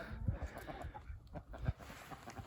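Chickens in a chicken tractor cluck softly at a distance, with a few scattered low clucks and rustling over faint outdoor background noise.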